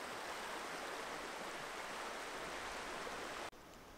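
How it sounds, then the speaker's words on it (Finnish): A shallow river in the Kaldoaivi wilderness flows with a steady, even rush of water, heard nearby and alone, dropping slightly in level near the end. "Katsotaan minkä näköinen joki."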